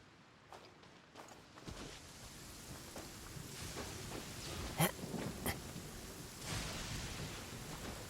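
A rainstorm with thunder in Genshin Impact, a continuous hiss of falling rain with low rumbling swells and a few sharper crackles, fairly quiet and with no talking.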